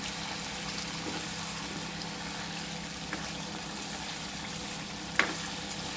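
Chicken deep frying in oil gives off a continuous low bubbling sizzle at moderate level, with a couple of faint clicks from the pan and no voices.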